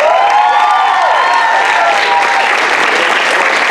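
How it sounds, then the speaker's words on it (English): Loud, dense audience applause mixed with whoops and cheers at a student association cultural show, Jalsa 2022, sustained and steady throughout. "Can we get a round of applause for them?"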